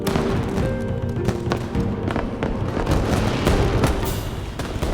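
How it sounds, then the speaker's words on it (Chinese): Fireworks burst in a dense, continuous barrage of loud cracks and booms, close and overlapping throughout, with no talk. "这烟花"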